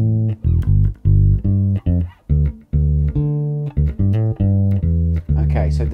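An electric bass plays the basic two-bar groove, short punchy plucked notes in a steady repeating rhythm, heard alone and fairly loud.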